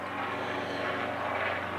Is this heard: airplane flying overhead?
yes